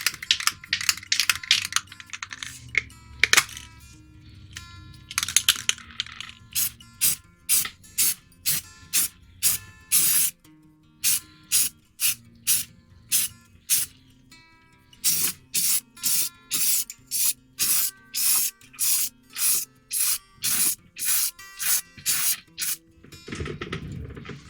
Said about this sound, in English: It's not going to be a heavy spray, just enough to paint it.